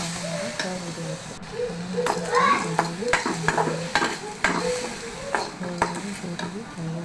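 Cumin seeds and curry leaves fry in hot oil in a pan for potato saagu, with a close, steady sizzle broken up by scraping stirs and light clinks of a spoon against metal.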